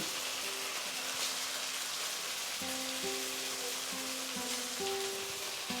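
Noodle roll filling cooking in a pan over medium heat, a steady soft hiss and crackle of sizzling that runs continuously at low volume, with faint tonal hum appearing partway through.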